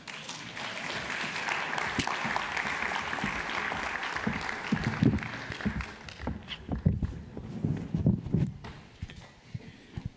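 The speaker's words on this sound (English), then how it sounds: "Applause." Applause from a conference audience at a Bitcoin policy summit as panelists walk on stage, a steady wash of clapping that thins and turns patchier toward the end, with bumps and footsteps mixed in.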